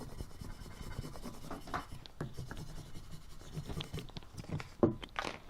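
Quiet scratching and rubbing as a burnishing tool is worked over the covered side of Cricut vinyl, with soft irregular strokes and a sharper scrape near the end.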